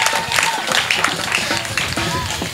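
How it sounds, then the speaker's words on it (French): A church congregation claps together in steady, moderately loud applause that carries on through the whole moment while a voice speaks over it. "On applaudit encore."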